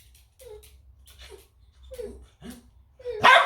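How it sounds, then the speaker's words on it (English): A dog gives a few short, light yips and whines, ending in one sharper, louder bark, fairly close with quiet gaps between. "don't bark at me."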